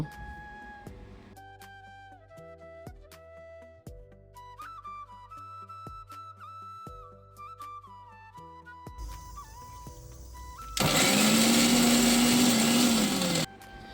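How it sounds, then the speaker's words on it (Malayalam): A mixer grinder whirs loudly for a few seconds near the end, blending a paste for jackfruit seed and mango curry, after a stretch of quieter kitchen clatter and tones. "അപ്പോൾ ഇത് മിക്സിയിലൊന്ന് അടിച്ച് നമുക്ക് മാറ്റി വയ്ക്കാം"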